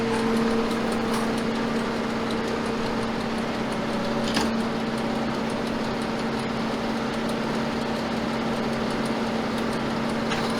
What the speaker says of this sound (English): So you can see the machine turning